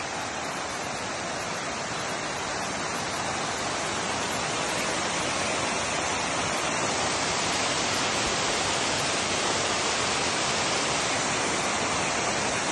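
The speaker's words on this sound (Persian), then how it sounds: "دل بیابون یه همچین کوهی وجود داشته باشه که این همه آب بیاد" Salt spring water gushing from a mountain in the Southern Khorasan desert of Iran makes a loud, steady rushing roar that stays constant throughout.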